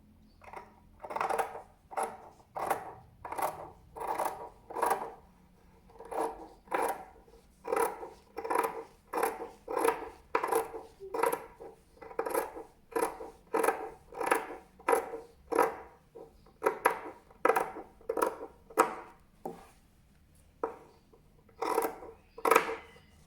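Scissors snip steadily through the fabric of a man's shirt collar in a long, even rhythm of close, crisp strokes, roughly one cut per second, with no talking.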